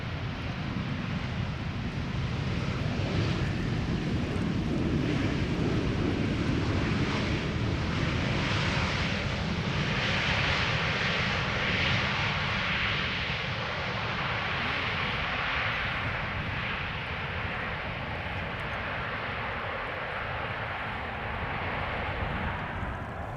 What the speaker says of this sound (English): EasyJet arriving from Prague,